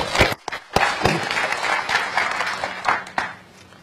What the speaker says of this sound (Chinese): 我们以热烈的掌声啊，对所有工作人员对我们的支持啊表示感谢